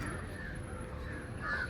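Crows caw faintly in the distance in Cubbon Park, their calls blurred into a steady outdoor background hiss and rumble.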